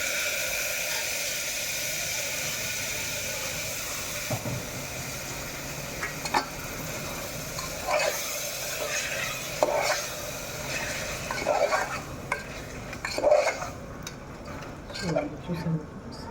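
Chicken pieces frying in oil in a pan with steady sizzling throughout, joined by scraping and clinking stirring strokes that grow more frequent toward the end; a voice is faintly present in the background.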